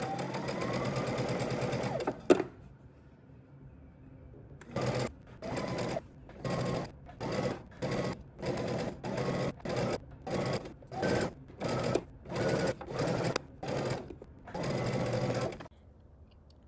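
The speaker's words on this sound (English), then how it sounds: "you're going to go ahead and sew using 3/8 of an inch seam allowance" Sewing machine stitching a dress strap seam at a 3/8-inch allowance: one long steady run, a pause, then about a dozen short bursts of whirring needle action in quick succession, close and clear.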